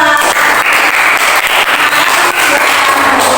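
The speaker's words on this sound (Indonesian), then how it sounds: "Terus tepuk tangan untuk kelompok 2." Loud, continuous applause from a group of teachers for a presenting team at a coaching session, many hands clapping together in a steady wash with faint crowd noise.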